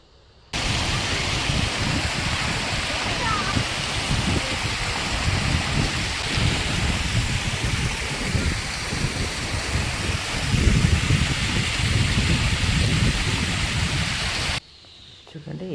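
A loud, continuous rush of falling water at a waterfall on the Chitravathi river near Pedaballi, roars steadily for most of the clip, then cuts off abruptly near the end.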